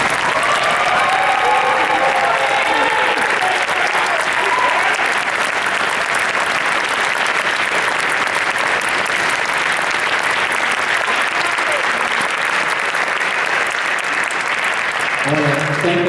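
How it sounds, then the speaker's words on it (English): Sustained audience applause after a university symphony band concert fills the hall loudly and steadily, with a few whistles or cheers rising early on. "Can we give them all a round of applause?"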